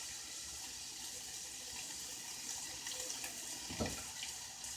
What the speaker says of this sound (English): I'm going to put 2 cups of water in here.